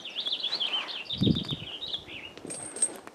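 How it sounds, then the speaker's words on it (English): Birds sing near a river on a bright morning: a steady stream of high trilling chirps and twitters runs throughout, moderately distant, with a few soft low knocks and rustles beneath. "Birds are singing."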